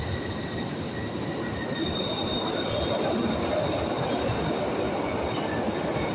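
A Glasgow Subway inner circle train pulls into a station, a loud continuous rumble of wheels on rails with thin squealing tones riding over it, steady and close for several seconds, no voices.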